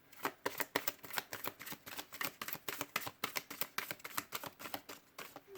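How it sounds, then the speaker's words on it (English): A deck of cards is shuffled close up, with rapid rhythmic riffling bursts repeating steadily, with no voices. "we'll do one more shuffle on this."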